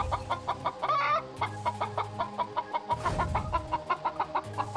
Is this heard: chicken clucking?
yes